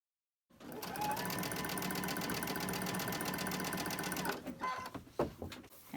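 A sewing machine stitches quilt pieces for a pine-tree quilt block in a steady, fast mechanical whir for several seconds, then slows into a few uneven clunks and rattles as it stops. No voices.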